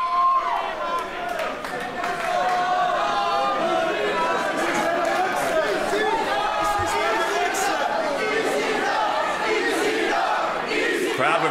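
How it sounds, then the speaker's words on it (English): Wrestling crowd at a GWF Chaos City 2 match between Tommy Dreamer and Pascal Spalter, chanting steadily and loudly throughout, a dense roar of many voices with rhythmic shouted surges and no single speaker standing out. "Crowd with an ECW chant."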